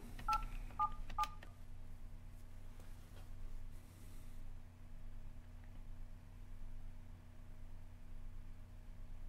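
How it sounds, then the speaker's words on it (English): Telephone keypad DTMF tones as a number is dialed for a call to web hosting company support, a quick series of separate beeps in the first second and a half, then faint line hiss and a steady hum with no voices. "So I'm just dialing the number."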